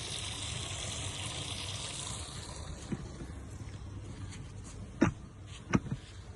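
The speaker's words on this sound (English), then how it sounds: "we'll just have a look at the bath and how that's filling" A bathtub filling from the tap, with a steady, faint rush of running water, broken by a few soft knocks or splashes near the end.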